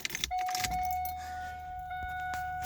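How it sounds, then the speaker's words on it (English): Keys jangle briefly, then a Chevrolet Camaro's ignition switches on with a steady electronic chime tone and faint mechanical clicks. "Now we're going to key the car on"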